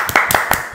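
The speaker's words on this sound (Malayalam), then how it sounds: "കയ്യടിടാ" Several sharp hand claps ring out at a steady beat, fairly close and clear against a quiet indoor background.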